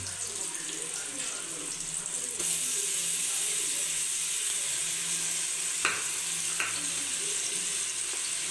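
Ginger garlic paste frying with onions for chicken biryani, giving a steady, hissing sizzle from the pan, with a couple of faint clinks as it is stirred.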